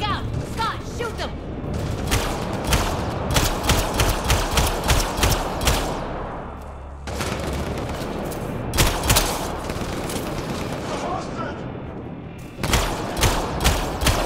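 Rapid bursts of gunfire from the video game Mass Effect Andromeda, with repeated volleys and booming impacts at steady loudness, broken by brief lulls, with voices speaking over the combat.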